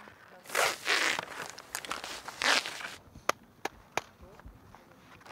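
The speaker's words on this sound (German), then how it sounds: "Dazu machen wir jetzt die Felle runter von unseren Skien." Climbing skins being pulled off skis in the snow, with several long ripping tears followed by a few sharp clicks and taps, close and fairly quiet.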